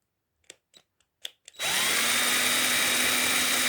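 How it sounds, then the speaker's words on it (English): A small electric drill bores a 3mm hole in a Hornby Firth of Clyde model locomotive body. A few soft clicks come first, then a loud, steady, close-up whine runs to the end. "So here we go with a 3mm drill."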